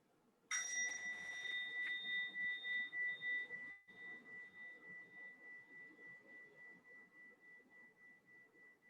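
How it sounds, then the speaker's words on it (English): A mindfulness bell is struck once, ringing out clear and bright, then sustaining a long, slowly pulsing hum that fades gradually in a quiet room. "invite one sound bell for us, and please turn on the microphone before you invite the bell"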